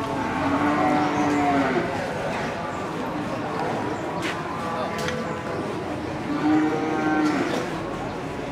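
Cattle lowing at the crowded Bojonegoro cattle market in East Java, with long drawn-out moos rising from several animals amid a constant murmur of voices and market bustle, some nearer and some further off.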